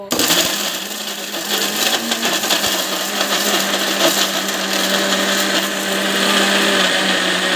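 A kitchen mixer grinder blends a sweet mixture, its motor whirring loud and steady for several seconds with a rattling, gritty churn of the contents, close by and without talk.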